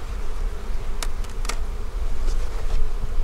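Dense, close buzzing of a honey bee swarm fills the air as their hive is shifted into a bee barn, a continuous drone with a few sharp clicks and knocks.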